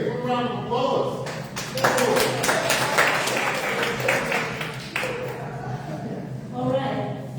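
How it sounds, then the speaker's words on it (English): Audience applause at a town council meeting, a few seconds of moderate clapping in a hall, mixed with voices talking before and after. "Give a round of applause."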